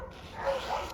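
A dog barks once or twice at a distance, a short muffled burst over a quiet workshop background during car bodywork on a Porsche 914.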